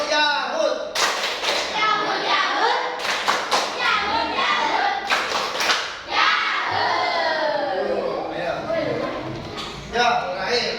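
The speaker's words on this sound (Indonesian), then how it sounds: "kalau sudah beri tepuk Yahud buat kelompok 2" Students in a classroom clap in a rhythmic group pattern called Tepuk Yahud, a brisk run of sharp claps in short bursts mixed with lively children's voices and thumps close by.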